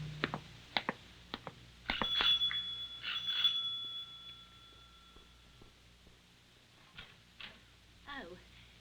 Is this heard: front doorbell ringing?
yes